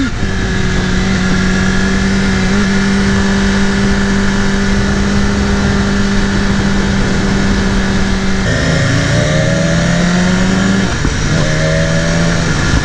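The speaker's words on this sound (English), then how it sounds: "I'm trying to let y'all hear this bike song." A 2018 BMW S 1000 RR sport motorcycle engine drones steadily under load for several seconds, then its pitch drops and climbs again through revs and gear changes, loud and close throughout with no talking.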